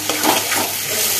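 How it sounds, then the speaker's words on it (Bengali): Spice paste of ginger, coriander, cumin, turmeric and Kashmiri chilli powder fries in a pan, a loud close sizzle with stirring that holds steady for a moment. "এবার সম্পূর্ণ মশলাটাকে ভালোভাবে কষিয়ে নেব একদম"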